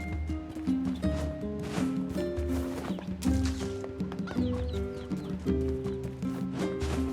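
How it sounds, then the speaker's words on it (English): Horses and farm animals in the NieR Replicant video game: clip-clopping hooves and occasional whinnies mixed with busy village ambience over a steady tonal musical background. "And chickens with their little babies."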